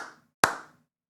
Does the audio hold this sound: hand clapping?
yes